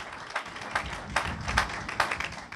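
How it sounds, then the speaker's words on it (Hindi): A church congregation clapping to thank the Lord during an evening sermon: a steady, rhythmic applause of many hands, moderately loud and filling the room, with no speech over it. "ताली बजा के प्रभु को धन्यवाद आज रात को दीजिए"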